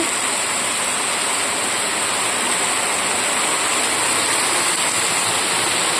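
Steady, dense rain hisses without a break, a loud wash of falling water with no voices.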